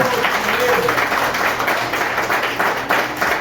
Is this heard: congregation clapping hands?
yes